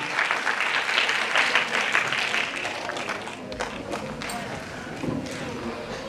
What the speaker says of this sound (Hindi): एक बार मोहसिन भाई के लिए जोरदार तालियां